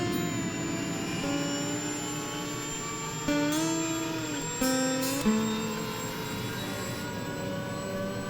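Steady, loud turbine whine of a helicopter engine with a constant high tone, a few brief pitch shifts and clicks, no talking.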